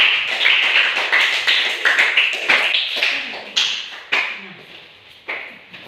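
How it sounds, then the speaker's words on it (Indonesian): Classroom clapping for a student group after its presentation: several seconds of quick, bright hand claps that start dense and thin out into a few separate, louder claps near the end. "Iya, tepuk tangan untuk kelompok 4."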